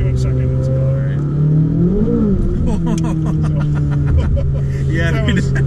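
A 2023 Corvette Z06 prototype engine holds a steady, deep drone that swells briefly and then settles, heard under ongoing talk from people in the car.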